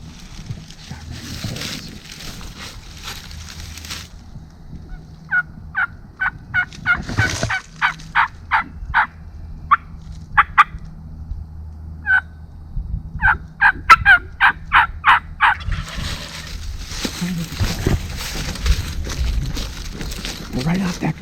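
A wild turkey gobbles repeatedly in a field on an Oklahoma hunt, the bursts coming in quick rhythmic runs at moderate distance over low outdoor background, with brief rustling at the start and end.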